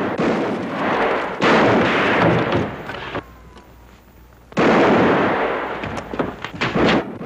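Loud volleys of gunfire in a Bonanza western TV scene come in two dense bursts of rapid, overlapping shots, separated by a short lull.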